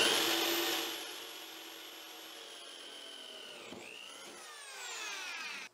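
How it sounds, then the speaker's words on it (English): A power drill drives a hole saw through PVC for a bulkhead fitting in an aquaponics fish tank, a loud steady high whine that dips as the cutter bites and then rises again before stopping. "drill a nice clean hole through the PVC"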